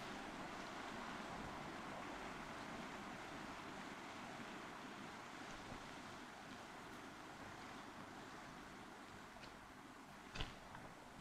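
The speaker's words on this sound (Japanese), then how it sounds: "風が出てきたようですね。" Wind rising outdoors, a low, continuous rushing and buffeting that stays faint and even, with a small bump toward the end.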